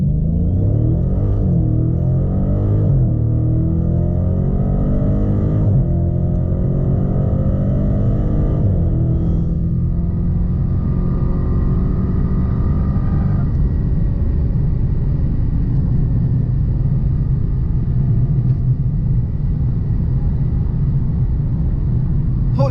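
Car with a new Hemi engine accelerating hard from 0 to 60, a close, loud V8 roar climbing in pitch through several gear shifts, then settling into a steady rumbling cruise.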